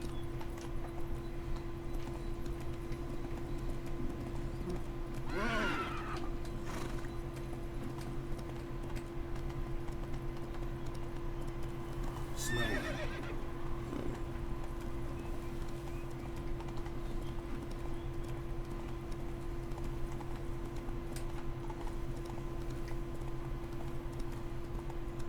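Roach, a horse in The Witcher 3, clip-clops at a steady pace over a constant background hum, with no clear whinny and no speech.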